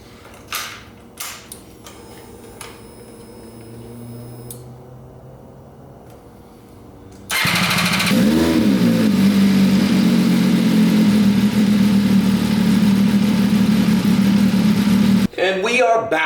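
An MV Agusta F3 800 motorcycle engine cranks and fires up after an oil and filter change, going from quiet clicks and mechanical creaks to a loud steady idle that runs for about eight seconds and then cuts off abruptly.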